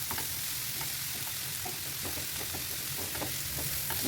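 Diced zucchini and peppers with onion stirred in a frying pan, giving a loud continuous sizzle with repeated scraping and tapping strokes of the spoon, close up and with no voices.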